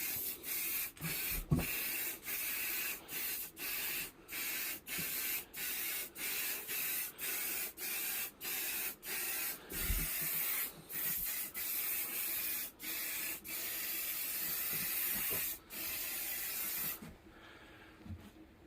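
Lacquer sprayed onto an alloy wheel during a DIY diamond-cut refurbishment, a steady airy hiss broken by many short regular pauses between passes, close and continuous for most of the time before stopping near the end.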